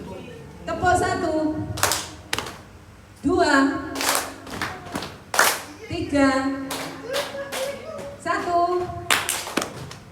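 Classroom of children clapping hands on their own thighs in counted rhythmic patterns, sharp bursts of slaps in groups with a teacher's voice and children's counting heard between them.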